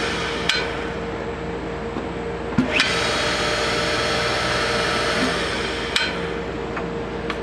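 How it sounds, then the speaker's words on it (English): A Craftsman pump runs in a garage with a fairly quiet, steady mechanical drone, punctuated by three or four sharp knocks or clicks. No talking is heard. "I'll give you a run up, because the pump itself runs beautifully."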